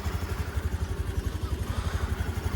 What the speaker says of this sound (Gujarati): હવે એક્ટિવા ગરમ થઈ રહી છે.